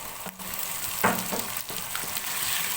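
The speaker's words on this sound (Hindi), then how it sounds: "अब इनको भी जो है वो अच्छी तरह से भून लेंगे" Cut carrot, capsicum and potato sauté in a pan with a soft, steady sizzle and a few stirring scrapes and clinks, fairly faint and close.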